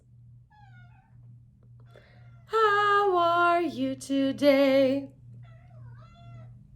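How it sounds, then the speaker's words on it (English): A cat gives a long, loud, whiny meow, rising and falling over a couple of seconds, against a steady low hum in a quiet room, while a voice speaks softly before and after. "You might hear my cat meowing in the background."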